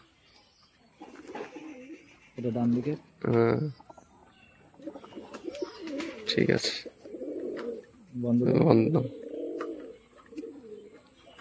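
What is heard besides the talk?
male pigeon cooing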